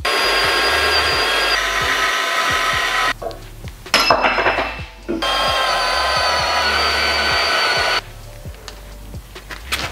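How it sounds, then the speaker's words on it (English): A portable band saw cuts metal with a steady, close grinding whine. It runs in two long passes separated by a brief pause and stops near the end. "I just really prefer to use a portaband anytime I get the chance"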